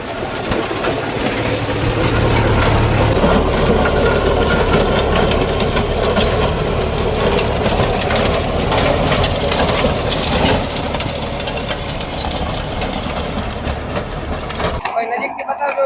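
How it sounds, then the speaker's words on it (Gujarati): A Dameshvar rotavator runs behind a tractor working at full load in a field, giving a loud, steady mechanical churn and engine drone that continues throughout before dropping away abruptly at the end. "કેટલું સાયલેન્ટ ફ્રી રોટાવેટર હાલે છે તમે જોઈ શકો છો."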